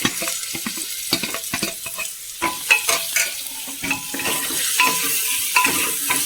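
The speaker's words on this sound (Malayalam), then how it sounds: "എനിക്ക് ഒരു സബോള അരിഞ്ഞതും ഒരു മൂന്ന് പച്ച മൂന്നാല് പച്ചമുളക് കുറച്ച് കറിവേപ്പില ഇട്ട് കൊടുക്കാം" Chopped onion, green chilies and curry leaves sauté in a hot pan for a vegetable curry, giving a steady loud sizzle broken by repeated scraping stirs of a spoon against the pan.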